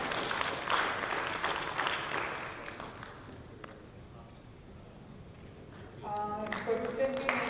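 A seminar audience claps in a scattered burst of applause that thins out midway, then a voice speaks briefly over the fading claps.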